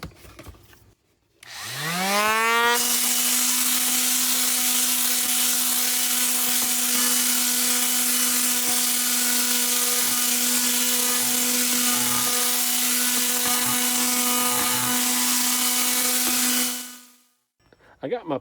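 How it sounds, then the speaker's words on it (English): An electric palm sander with 60-grit sandpaper whirs up to speed and runs steadily with a humming whine and gritty grinding on a cast iron skillet, then winds down near the end. "Now I'm going to use my palm sander and some 60 grit sandpaper."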